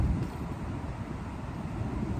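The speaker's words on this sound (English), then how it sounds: "I'm getting a little wind flowing through here" Low, blustery wind buffeting an outdoor microphone, a steady rumbling roar that swells and eases slightly throughout with no talk over it.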